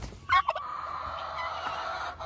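A tom turkey gobbles in a quick rattling burst, followed by a lingering droning hum in the background.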